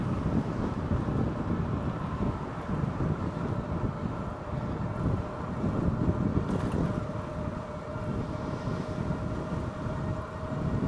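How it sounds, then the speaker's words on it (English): Strong wind roars steadily over the microphone during an e-bike ride on an Aventon Aventure, a dense low rumble with gusty swells and a faint tonal hum, no talking. "Wow, the wind is really strong today."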